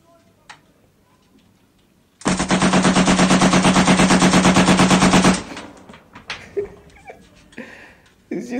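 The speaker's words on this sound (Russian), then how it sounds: "Is she testing the gun?" A gun fired in rapid automatic bursts, producing a loud, dense, sustained rattle for about three seconds, with quieter scattered sounds and voices before and after.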